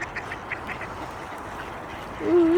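Ducks quack in a quick series of nasal calls at moderate distance, followed by a louder, rising call near the end over outdoor background noise.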